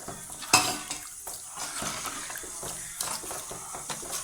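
Water is poured into a cauliflower vegetable kurma simmering in a pot and stirred, a sharp splash followed by bubbling, swishing stirs and spoon scrapes against the pan, close and moderately loud.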